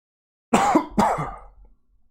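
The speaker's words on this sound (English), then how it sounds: "I gotta sneeze right fast." A single sneeze or harsh throat burst, two quick explosive bursts close to the mic, then quiet.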